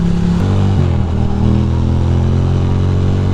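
A Ducati Monster 620 motorcycle engine drones loudly and close while riding, pitch stepping down in a couple of shifts early on, then settling into a steady rumble with no talk.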